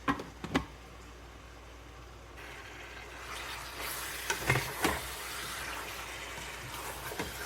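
Meat frying with spices in a pot, a sizzle that swells as the pieces go in, close and moderately loud, punctuated by several sharp knocks and stirring scrapes.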